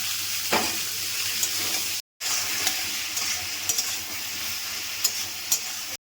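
Pointed gourd, potato and fried soybean chunks frying in a pan with salt and turmeric, a continuous close sizzle punctuated by several sharp spatula clinks, interrupted once by a brief gap of silence.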